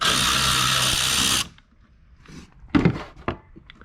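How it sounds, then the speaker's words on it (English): A power driver whirs steadily on a T15 Torx screw on the back of a 1997-2004 C5 Chevrolet Corvette headlight cover, then stops, followed by faint handling clicks and thunks. "got a T15 Torx. I got two of them on this backside right here, so we're gonna start by taking those out."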